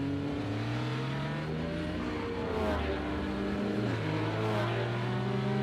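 Engine roars sweep up and down in pitch like revving race cars as diecast toy cars run a downhill track race, loud and continuous.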